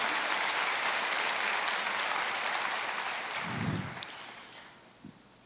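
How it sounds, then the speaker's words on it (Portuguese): A church congregation applauds in a broad, continuous wash of clapping that slowly fades. A low thump and a brief voice come near the end. "dê uma salva de palmas para Jesus"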